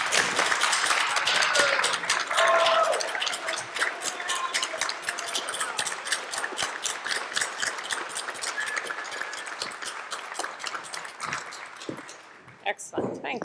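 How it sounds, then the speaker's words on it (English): Audience applause at a members meeting, a dense burst of many hands clapping at once that holds steady, then thins and fades near the end. "So a round of applause for Einar."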